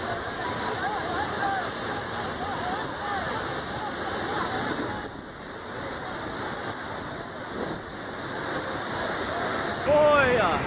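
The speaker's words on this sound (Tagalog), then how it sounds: "dito sa napakalalim na bangin na ito ay dito pala umagos yung napakalaking baha" Huge flash flood water roars down a deep ravine in a loud, steady, continuous rush with no breaks, and a voice can be heard over it.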